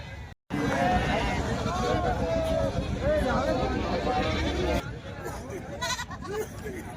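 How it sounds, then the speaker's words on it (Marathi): Goats bleat repeatedly amid the crowd babble of a busy goat market in Shevgaon, several overlapping calls near and far. Voices talk throughout. "शेळ्यांचा बाजार भरलेला आहे मोठ्या प्रमाणावर"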